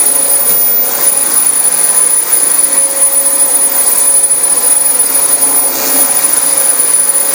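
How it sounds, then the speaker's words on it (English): A vacuum cleaner runs steadily and loudly on carpet at close range, its motor holding a constant high whine with no talking. "We're going to go ahead and vacuum the main floor,"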